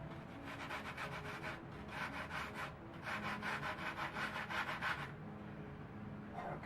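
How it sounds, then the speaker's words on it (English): A double-ended carpenter's file rubs back and forth across foam in quick rhythmic strokes, a close raspy scraping sound that pauses briefly between bursts. "after using my double-ended carpenter's file, I use the rasp to take this down and help round it out"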